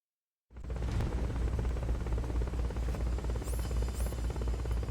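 A helicopter in the video game Metal Gear Solid: Peace Walker, a steady low rotor hum and buzz that starts abruptly and holds loud, with faint electronic chirps near the end.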